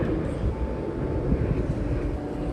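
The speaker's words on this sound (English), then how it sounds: "I'm not about to talk over the planes." Aircraft passing overhead produce a steady, broad low rumble that holds at an even level throughout, with no talking over it.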